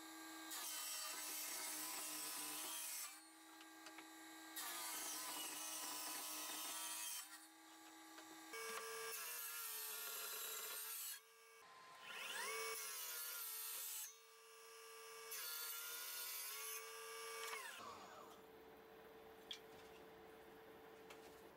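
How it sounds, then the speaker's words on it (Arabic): A power saw cuts through MDF board in several loud bursts of whining, rasping noise, each lasting a few seconds, separated by short pauses. "هبدا اظبط المنشار وابدا اقطع المقاسات اللي موجوده في الرسمه"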